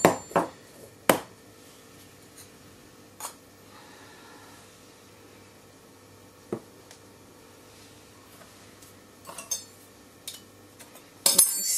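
A bath bomb mould is tapped to release it, giving sparse, sharp plastic taps and clinks at irregular intervals over a quiet background, with a cluster of taps near the end.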